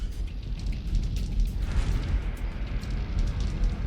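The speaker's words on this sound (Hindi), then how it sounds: "यह विस्फोट इजरायली हमले के बाद हुआ।" A deep, sustained rumbling roar of an explosion and fire after an Israeli airstrike in Beirut, loud low-end noise that swells after the first second and continues steadily.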